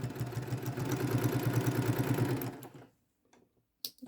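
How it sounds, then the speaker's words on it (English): Sewing machine stitching two quilt pieces together, a steady rapid mechanical whir for about two and a half seconds that stops abruptly, followed by near silence and a sharp small clack. "I'll sew these two pieces together and put that under the machine"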